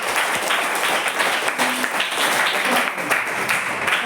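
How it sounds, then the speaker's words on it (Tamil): Applause from a classroom of students congratulating the winners of a class parliament election, steady dense clapping filling the whole stretch without a break. "அதுக்கடுத்து கைத்தட்டி எல்லாரும் நம்ம வாழ்த்துக்கிறோம்."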